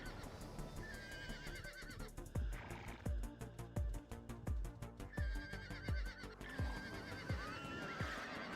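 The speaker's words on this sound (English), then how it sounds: "We're taming a horse." A horse neighs repeatedly in the online role-playing game Ultima Online while it is being tamed, its whinnies rising over a steady rhythm of clip-clopping hooves and a busy game soundtrack.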